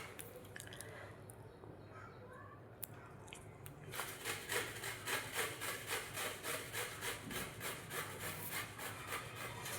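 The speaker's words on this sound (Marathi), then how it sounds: "किसणीने सगळा मुळा आपल्याला किसून घ्यायचा आहे" Radish is grated by hand on a metal kitchen grater in a home kitchen, producing a rapid rhythmic scraping of repeated rasping strokes that grow steady and close after a quieter start.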